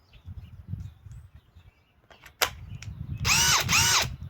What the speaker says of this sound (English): So now I have the world's strongest drill, supposedly.